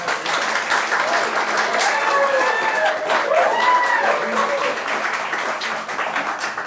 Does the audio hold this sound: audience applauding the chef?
yes